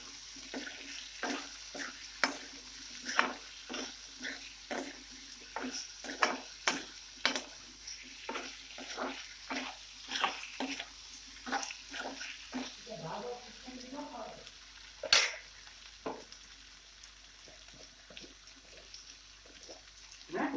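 Potatoes stir-fried with pieces of fried shark in a pan, with repeated scraping, clattering strokes of a spatula over a low steady sizzle, close by; a voice speaks intermittently.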